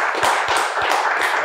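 A crowd of people clapping together on a talk show set, steady dense applause for a second and a half, close and loud with no voices.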